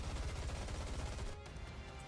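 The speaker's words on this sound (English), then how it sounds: "Gunfire, unmistakably Snow White's, erupts from behind." Sustained gunfire from Snow White in the mobile shooter game NIKKE: a dense, rapid barrage of shots, loud and continuous, cutting off partway and leaving only a fainter roar afterward.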